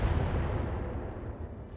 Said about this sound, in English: Oh, mortar ammo explosion.